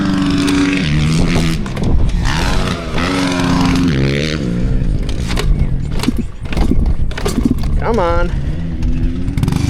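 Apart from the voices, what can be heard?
125 dirt bike engine running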